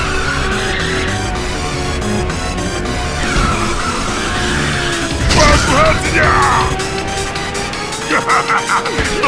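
Tires squeal through a drift in the racing game Ridge Racer 6, layered over a loud, continuous engine roar, with several skid bursts and a clatter of impact near the middle.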